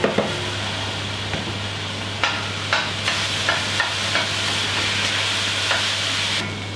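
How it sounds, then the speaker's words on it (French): Blanched, finely diced vegetable brunoise sizzles with onions in a pan, a steady bright frying hiss broken by regular scraping stirs and clinks of the utensil, close and alone. "je vais rajouter ma brunoise de légumes qui elle a été déjà précédemment blanchie"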